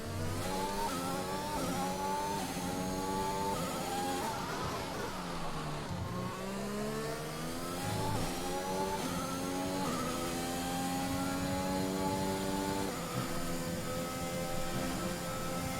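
Formula 1 race cars from the F1 2021 game lapping the Azerbaijan circuit, high-pitched engines rising and falling through gear shifts, one car loud and close with others layered behind, continuous throughout.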